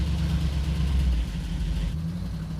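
A classic car's engine idles steadily and close by, running on its own after a Lokar throttle pedal, throttle cable and kickdown cable install. A continuous low rumble holds with a slight dip in level partway through.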